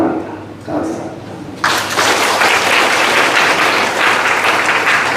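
Audience applause at the inauguration ceremony of a new Jeonbuk provincial party chapter chairperson; a voice speaks over a room murmur, then a loud, sustained burst of clapping from a large crowd fills the rest.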